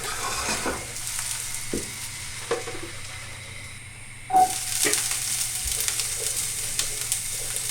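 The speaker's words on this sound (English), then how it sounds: "Now you can see the aubergine chunks are nicely browning in the pan" Aubergine chunks browning in a hot pan, a soft steady sizzle with occasional spatula taps and scrapes, briefly dipping before the frying grows brighter and louder again.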